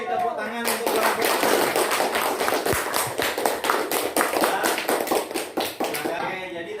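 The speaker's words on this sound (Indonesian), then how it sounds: "Beri tepuk tangan untuk kelompok." A classroom of seventh-grade pupils claps for a student group after its presentation, a dense, sustained patter of many hands lasting several seconds at close range, with voices mixed in beneath.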